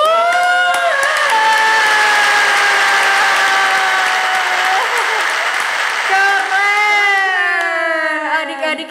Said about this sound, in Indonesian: Wah keren, tepuk tangan